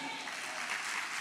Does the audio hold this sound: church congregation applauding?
yes